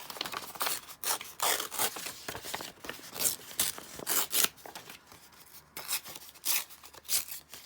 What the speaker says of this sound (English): let's tear down this section here